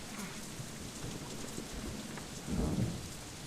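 Rain and thunder in the video game Deadlight: steady rainfall hissing throughout, with a low rumble of thunder swelling near the end, heard without speech.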